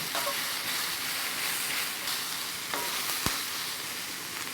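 Garlic frying in a pan of vegan stroganoff with seitan and mushrooms, a dense steady sizzle and hiss filling the whole stretch, with a brief utensil knock near the end.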